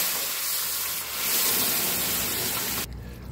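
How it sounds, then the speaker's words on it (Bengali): Boiled vegetables tipped into hot oil seasoned with turmeric in a vegetarian dish, setting off a loud broad sizzle and hiss that rises in the middle and then cuts off. "এবার সেদ্ধ করা সবজিটা এর মধ্যে ঢেলে দিচ্ছি"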